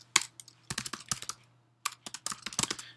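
Keys clatter on a computer keyboard as someone types code, in quick bursts of close, crisp keystrokes broken by a short pause midway.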